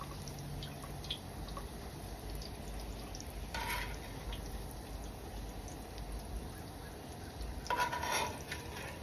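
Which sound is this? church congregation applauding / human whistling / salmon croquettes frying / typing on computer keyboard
salmon croquettes frying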